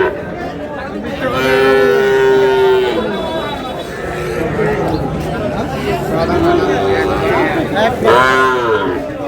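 A Sahiwal bull calf moos loudly and drawn out, then moos again amid a busy crowd of people talking nearby at a cattle market.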